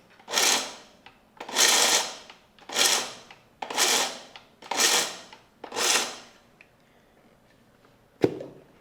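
A kitchen mixer grinder run in short pulses on jaggery and peanuts: six loud, close whirring bursts of about a second each, separated by brief pauses, then a single sharp knock at the end.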